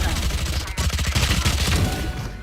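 A Raze grenade in Valorant bursts into a dense, loud crackle of rapid cluster explosions, a continuous noisy barrage over about two seconds with faint game sounds.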